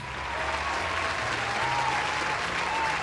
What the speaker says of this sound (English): Can we just give Torras a round of applause?